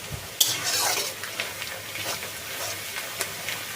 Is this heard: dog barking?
no